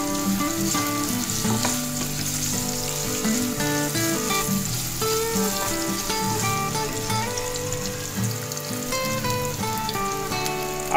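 Capsicum sizzles in a pan of hot oil while chicken noodles are being cooked, making a loud, steady frying hiss with music playing over it throughout.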